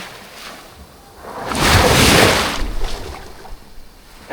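A big ocean wave surges and crashes at Dibut Beach, swelling into a loud broad roar mid-clip and then fading back to a softer wash of surf.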